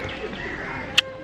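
Birds call outdoors in Sri Lanka, with mynas and crows about, giving a sharp, brief chirp that stands out over a steady bed of ambient background noise. No one speaks.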